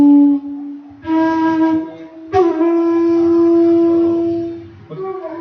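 Kerala bamboo flute sounding a slow dha-ni-sa phrase: sustained, breathy tones that hold, break, then step up with a tongued attack, one long note swelling and fading before a short new note.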